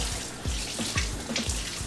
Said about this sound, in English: you basically just run it under some cold water